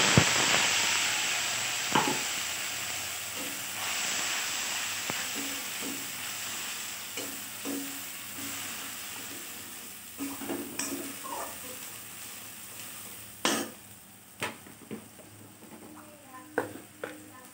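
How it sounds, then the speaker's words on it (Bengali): Mustard-based spice paste for a tilapia fish curry hits hot oil, giving a broad sizzle that gradually settles, broken by sharp clacks and scrapes of a spoon against the pan. "এবার যে সম্পূর্ণ মশলাটা পেস্ট করে রেখেছি সেটা আমি তেলেতে দিয়ে দিই"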